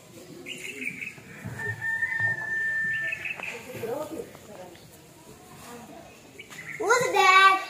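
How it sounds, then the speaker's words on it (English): Birds chirp and a rooster crows on a bright, breezy day in a school play, shrill calls scattered through the scene and building into a louder burst of crowing near the end, with children's voices around them. "Birds are chirping."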